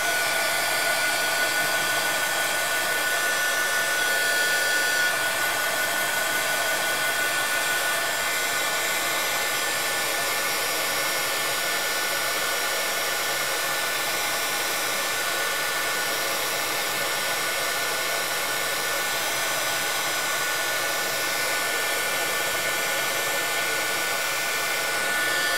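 A hair dryer blows steadily and loudly on soaked paper, drying a saturated background coated with Oxi ink; the whir holds unbroken for the whole stretch with no talk over it.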